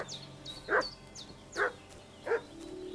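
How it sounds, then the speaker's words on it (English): Three separate barks from a dog in the video game Kingdom Come: Deliverance 2, spaced about a second apart at medium distance, with birdsong chirps and a low ambient hum underneath. "What's that dog making such a fuss about?"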